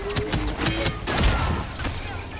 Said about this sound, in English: Yes, I got the grenade off.